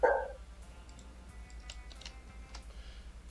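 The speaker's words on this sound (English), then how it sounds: "And what's pissed your dog off so much?" A dog lets out one loud, sharp bark right at the start, followed by quiet, faint ticking and clicking with no further barks.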